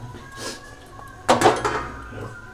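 A lid set down over a cooking pot of egg and soya chunk curry, one sharp metallic clank near the middle, followed by a few softer rattles in a quiet kitchen.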